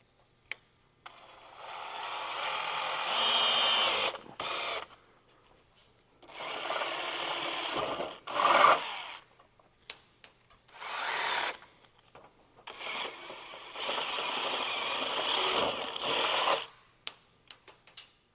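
A power drill whines in several bursts of a few seconds each, grinding through a 5th-generation Toyota 4Runner fender up close, with quiet gaps and clicks between runs.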